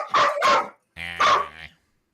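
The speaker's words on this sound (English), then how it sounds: "He's barking because I'm not playing with him with the laser pointer now." A pet dog barks in a short indoor burst, two quick yips followed by a longer, whining bark, loud and close with no talk over it.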